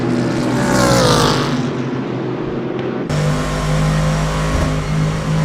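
GT3 race car engine at the Mount Panorama circuit in Bathurst, loud and close, revving hard and then dropping sharply as the driver lifts off the throttle, before the drone picks back up.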